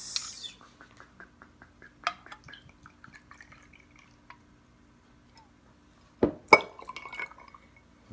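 Kentucky bourbon is poured into a glass for a Manhattan cocktail: a faint trickle and drips, light glass clinks, then a louder clink and splash near the end, close and quiet with no talk.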